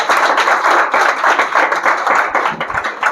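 An audience at a school farewell ceremony for Class 10 and 12 students claps steadily, dense applause with rising and falling waves over a few seconds.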